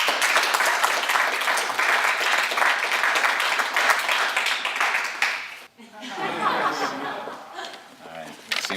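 An audience applauds at a Michigan State University event to welcome speaker Dalton Hardesty, with dense, loud, sustained clapping that drops off after about six seconds into scattered claps, chuckles and murmuring chatter.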